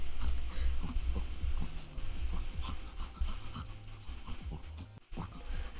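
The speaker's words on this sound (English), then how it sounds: "Dog noises." A dog in a video game pants quickly in rhythmic, breathy bursts, close up and fairly steady, with a brief lull near the end.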